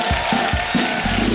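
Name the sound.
audience applause for Shakti Kapoor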